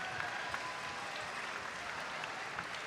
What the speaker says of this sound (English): let's have a round of applause for all of our teams competing here